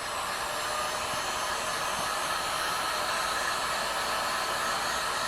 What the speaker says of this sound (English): let me go ahead and just hit this with the heat gun just a little bit